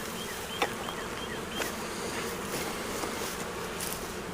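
Bees buzzing around the bottom of a beehive, a steady close drone with a few individual insects whining past, no talking.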